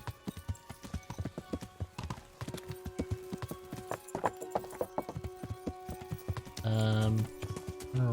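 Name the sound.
tier 5 horse galloping in video game Kingdom Come: Deliverance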